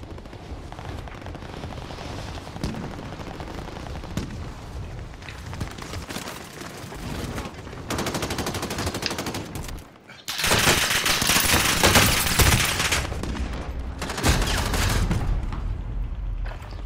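Dense automatic gunfire and rattling bursts from Call of Duty: Warzone, loud and sustained with heavier volleys swelling after a brief dip, continuing almost without pause throughout.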